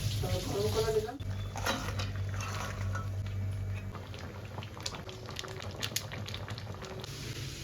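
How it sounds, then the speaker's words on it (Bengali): Curry gravy for shrimp malai curry bubbling in a wok, with a soft, continuous simmer and patter under a low background hum and a few clinks. "গ্রেভিটা ভালো করে ফুটে গেলে মাছগুলো দিয়ে আমি মিনিট 5 মতন ফুটিয়ে নিয়েছি"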